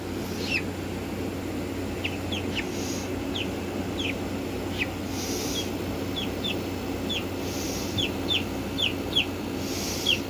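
Black Marans chicks peeping and clucking in a barn during weighing, a steady run of short high chirps at moderate distance over a constant low hum.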